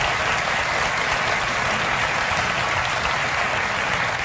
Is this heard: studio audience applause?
yes